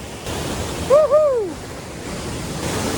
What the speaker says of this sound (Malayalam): ഇതാണ് ആ ഒരു വാട്ടർഫാൾ